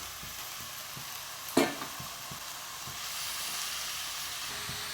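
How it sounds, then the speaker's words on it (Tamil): Half a kilo of mutton frying in a pot with onion and tomato for biryani gives a steady, soft sizzle throughout, with one sharp clatter near the start, and no voices. "இப்போ இந்த மட்டனை இதோட சேர்த்துக்கலாம்"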